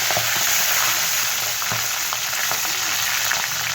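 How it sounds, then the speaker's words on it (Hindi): Chicken liver sizzles hard in hot oil, a dense, loud, continuous frying hiss with small crackles and pops, close by and with no talk over it. "ऑयल गर्म हो चुका है, अब हम कलेजी डाल देंगे।"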